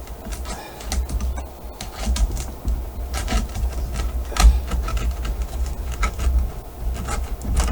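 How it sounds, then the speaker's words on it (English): A sharp blade slices and scrapes along skateboard grip tape to trim it close to the board, giving close, rough rasping and scratching in an uneven rhythm, with no talking. "Then you just basically start to cut off the grip."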